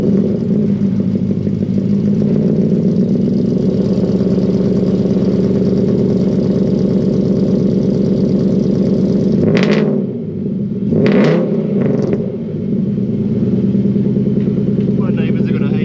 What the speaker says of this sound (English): ridiculously loud Y62 supercharged exhaust.